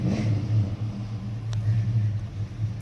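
A 1970 Plymouth Superbird barn find gives off a steady low engine rumble, close and continuous, with a faint brief tick partway through and no talk.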